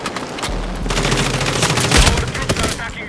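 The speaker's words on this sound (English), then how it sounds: "I'm running around with a fucking shotgun" Rapid gunfire from a Battlefield 6 match, a dense, loud burst of shots layered over one another amid the chaos of battle, with a voice faintly underneath.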